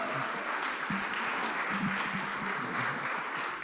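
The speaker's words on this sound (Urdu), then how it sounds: "بھرپور تالیوں میں استقبال کیجئے عباس قمر صاحب." An audience at a mushaira in Dubai applauds to welcome poet Abbas Qamar, a dense, steady clapping from a crowd that lasts the whole moment.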